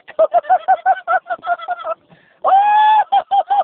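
Turkeys call loudly and close by in a quick run of repeated honking notes, then one longer drawn-out call, then more short notes.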